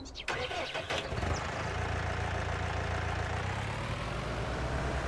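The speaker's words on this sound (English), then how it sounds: "Nice looking little tractor here." A small tractor in Farming Simulator 19 cranks and catches, then settles into a steady, loud, low idle that drones on unchanged.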